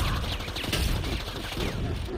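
Rapid, dense gunfire in the video game Predator: Hunting Grounds, shooting a biomask off, with bursts packed close together at steady loudness for a couple of seconds.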